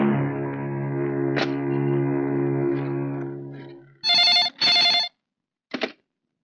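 A telephone rings in a dramatic Hindi film scene: after a fading sustained tone, two long electronic bursts of ringing are followed by a short third burst, then silence.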